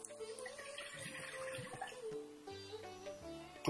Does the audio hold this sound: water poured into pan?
yes